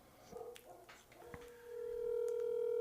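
Phone dialing sounds play faintly: a few scattered short beeps and clicks, then a steady continuous tone that rises and holds to the end.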